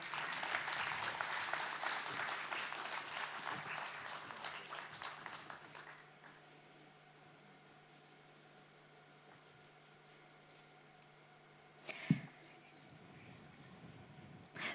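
Audience applause at an award ceremony for Tatra regional brand prizes, a burst of clapping that fades out after about six seconds into quiet room hum, followed by a single brief knock or thump.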